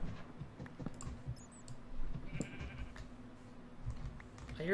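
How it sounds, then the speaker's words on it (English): A Minecraft sheep gives a short bleat over faint game ambience and soft clicking, fairly quiet, with a few other brief game sounds around it. "That's our same sheep friend."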